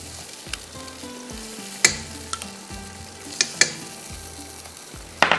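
Masala with yogurt sautéing in a pot for yakhni pulao, a steady close sizzle with several sharp clacks of a spoon stirring against the pan, heard alone without talk.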